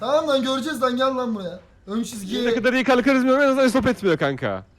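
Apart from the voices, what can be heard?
No everyday noise stands out behind the speech.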